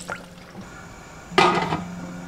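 Water splashes and pours into a pot where pork belly sits with ginger slices and scallion pieces, a brief gurgling burst standing out over faint kitchen hiss.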